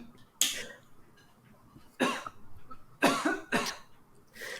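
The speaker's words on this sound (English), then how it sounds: "Proceeds to choke on the water." Someone chokes on a sip of water and then coughs in several sharp, close bursts. Two bursts stand apart and a quick pair comes near the end, with quiet pauses between them.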